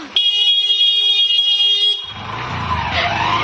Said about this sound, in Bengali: তাই ভাবছি যে পেছনে এত হর্ন দিচ্ছে কি রে ভাই